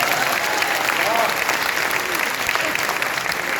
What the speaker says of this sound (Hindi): ताली बजाओ वरना हाथ नहीं रहेगा।